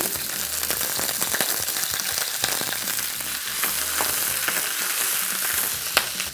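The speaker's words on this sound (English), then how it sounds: "Scary hot. See the smoke? Can you see smoke? I can see smoke. All right, put the oil in. Broccoli in." Broccoli hits smoking-hot oil in a pan for beef and broccoli, making a loud, continuous sizzle with crackling spatters and a few clattering stirs, with no voices.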